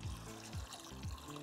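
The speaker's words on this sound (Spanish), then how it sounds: "Agua hasta tapar." Water poured into a cooking pot while making rice with pork, a soft trickling pour with low gurgling pulses repeating about every half second, fairly quiet and close.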